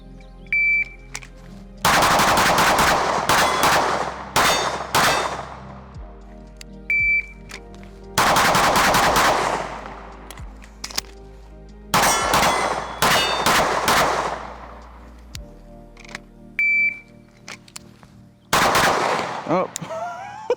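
Staccato HD P4 pistol, a 2011-style handgun, firing loud, close shots in several rapid strings of about five to eight rounds each, separated by short pauses, with ringing metallic tails between bursts.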